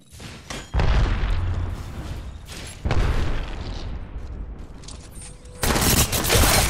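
Heavy automatic gunfire in an Apex Legends match, several loud bursts with booming impacts separated by short pauses, carrying on with little talk.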